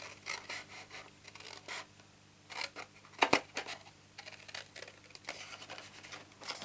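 Scissors snip through cardstock while a card is being made, a series of close, crisp cuts with one sharper snap midway, alone with no talking.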